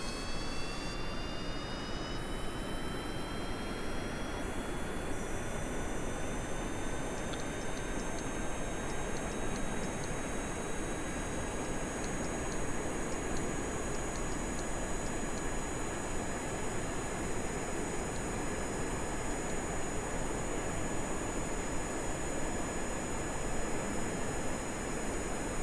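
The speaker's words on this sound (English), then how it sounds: "Throttle the engines up." Aircraft jet engines throttle up in Kerbal Space Program, a steady loud roar with rising whine tones that climb in pitch and then hold, continuing alone and unbroken.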